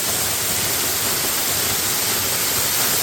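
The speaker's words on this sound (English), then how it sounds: "We are so close to the waterfall." Waterfall near Sakleshpura, a steady broadband rush of falling water that holds loud and even throughout, with no pauses and no voices over it.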